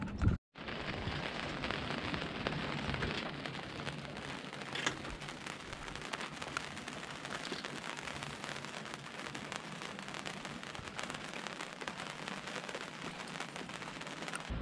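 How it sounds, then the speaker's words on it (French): Steady, dense patter of light rain falling on a surface aboard a boat off Majorca, continuous and even throughout with no voices. "La pluie, mais la petite pluie"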